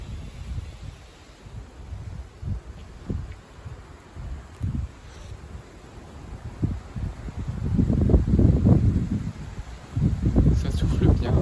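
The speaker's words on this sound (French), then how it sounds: "Parce qu'il y a quand même des rafales." Strong wind gusts of around 70 km/h blow through oak trees in late November. They come as rumbling microphone buffets in irregular bursts, faint at first and building into heavier, sustained roaring gusts near the end.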